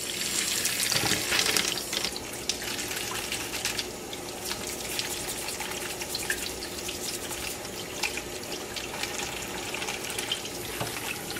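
Steady running water pours over tumbled rocks being worked with 150/220 silicon carbide grit, a continuous close splashing hiss with small clicks of stone, no voices.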